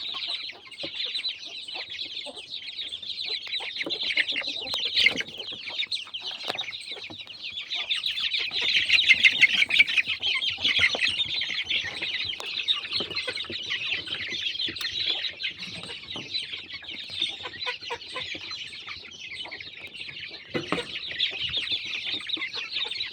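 A hen clucks steadily while her seven newly hatched chicks cheep in a high, busy chorus, close and continuous without pause.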